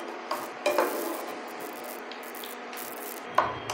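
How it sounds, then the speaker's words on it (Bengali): Potato strands for aloo bhujia sizzle steadily in hot oil, a soft continuous crackle broken by a few scraping stirs of the spatula. No one speaks. "এবারে আমার ভাজা হয়ে গেছে"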